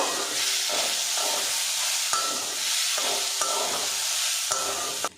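A spoon stirs dal with bitter gourd in a pot, scraping steadily in a rhythmic pattern over a constant sizzling hiss. The stirring sounds close, and no one talks.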